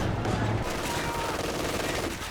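Machine-gun fire from a Company of Heroes 2 multiplayer match rattles on steadily for a couple of seconds amid dense battlefield noise, with faint voices mixed in.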